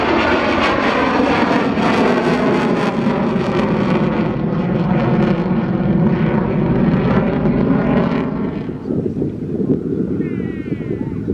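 Military jet in a flying display at the Farnborough Airshow, pitching up, rolling inverted with gear retracting and powering away, a loud sustained roar that fades after a few seconds into wind and distant crowd noise.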